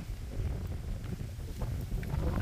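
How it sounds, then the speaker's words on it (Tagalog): Strong wind gusts buffet the microphone outdoors on a muddy rural path through farmland, a steady low rumbling roar with light drizzle, no talk. "Lakas ng hangin."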